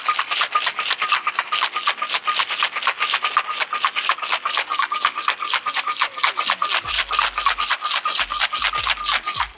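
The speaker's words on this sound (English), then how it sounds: "Secure that, and then we're gonna shake." Ice shaken hard in a small-into-big cocktail shaker while mixing an Aviation cocktail: a loud, close, steady rattle of rapid rhythmic clatters running continuously for about ten seconds with no talking.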